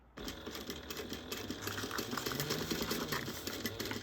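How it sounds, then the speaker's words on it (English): A sewing machine runs continuously while basting a fabric zipper gusset at 1/8 inch, its needle giving a fast, steady mechanical chatter at moderate volume with no talking. "we're going to go all the way around, and we're going to baste this together at 1/8 of an inch"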